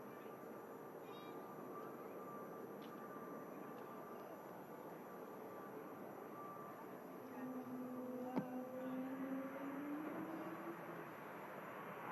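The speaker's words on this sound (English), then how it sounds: "Aer Lingus ATR 72 coming in from Dublin." An Aer Lingus ATR 72 turboprop arriving from Dublin lands at Manchester Airport, a steady engine roar with a rising tonal whine that swells toward the end, heard from a distance with no talking.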